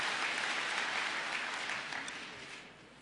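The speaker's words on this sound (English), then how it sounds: "Let's give them all a round of applause again." Applause from an audience at a real estate hall of fame ceremony, dense and steady, tapering slightly toward the end of three seconds.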